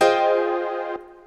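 A piano chord with every note sounding at once, stiff and mechanical, rings out cleanly and decays alone before being cut off sharply near the end.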